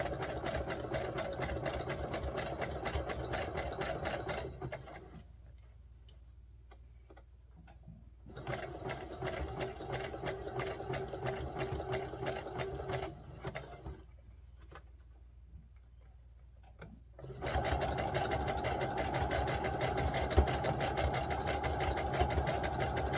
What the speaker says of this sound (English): I'm going to put it on a zigzag stitch